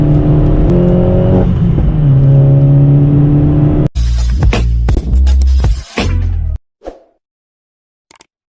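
A road-going Opel Corsa OPC/VXR accelerates hard, with a loud, close engine note climbing for several seconds. Rough buffeting and gear-change breaks follow before it cuts out abruptly.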